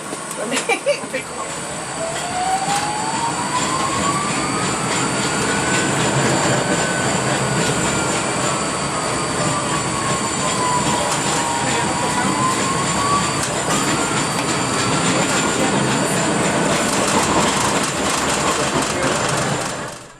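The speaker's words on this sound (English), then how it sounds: "We're on the streetcar." A Portland streetcar rolls along its rails with a continuous rumble and a rising, wavering motor whine, under speech.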